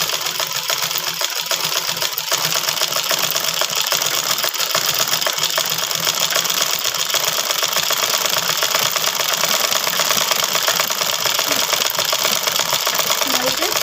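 A sewing machine running a zigzag stitch on saree fabric, a loud continuous rapid mechanical whirr close by that holds steady without pause.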